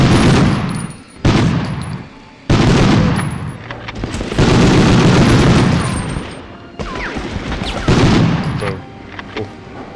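Dense bursts of gunfire in the World War II shooter Medal of Honor during a mission to destroy V-2 rockets, loud and close, with rapid volleys broken by brief pauses and heavy booms across the whole stretch.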